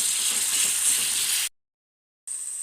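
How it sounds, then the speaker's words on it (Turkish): Tomato paste sizzling and frying in oil in a pan, a steady close crackling hiss that cuts out abruptly, then returns after a short silence. "Salçamızı güzelce kavuruyoruz"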